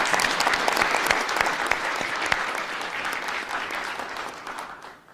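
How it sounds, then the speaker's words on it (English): Loud, dense applause from the crowd at a US citizenship ceremony, honoring a collegiate academy color guard, sustained clapping that fades out at the close. "Let's all give them all a round of applause."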